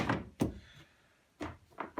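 A Bosch tumble dryer door shut in a few quick knocks and thunks, sharp close impacts separated by short pauses in an otherwise quiet room.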